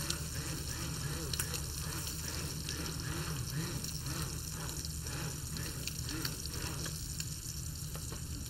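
Beef browning in a hot pan, a steady close sizzle and crackle of frying meat that runs continuously, with occasional stirring and a person talking faintly over it.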